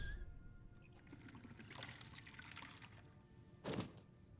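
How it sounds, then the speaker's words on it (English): Water pours and trickles steadily as water skins are refilled in Skyrim, a soft continuous flow with a brief louder splash near the end, fairly quiet throughout. "I notice that I need to refill my water skins."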